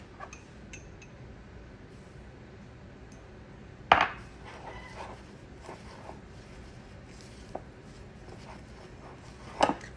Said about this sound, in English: So you're gonna mix that up and get that saturated, or get it moistened with that 4 tablespoons of butter.